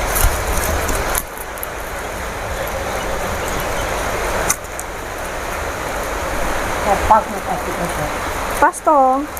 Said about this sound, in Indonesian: Tuh di belakang hujan deres.